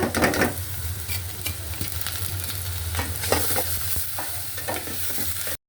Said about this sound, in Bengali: রসুন কুচি দিয়ে দিলাম, পেঁয়াজ কুচি, তো দিয়ে দিলাম ডালটা